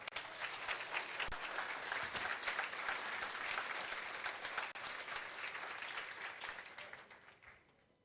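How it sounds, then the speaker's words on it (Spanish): A church congregation applauds during a sermon, a dense, sustained burst of clapping from many people that holds steady for several seconds before fading away at the end. "Dale un aplauso al Señor, por favor."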